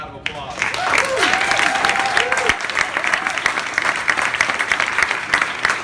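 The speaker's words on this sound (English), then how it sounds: "Let's give them one more round of applause." An audience gives a round of applause to speakers standing at the front of an event, steady crowded clapping after a short spoken lead-in, fairly close and continuing to the end.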